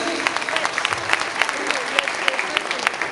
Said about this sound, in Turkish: güçlü alkışlar yavrularımız için gelsin